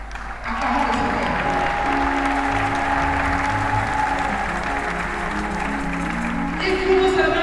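A church congregation claps and applauds during a sermon on praise and thanksgiving, producing sustained, fairly loud applause with voices and a sung tone blended underneath.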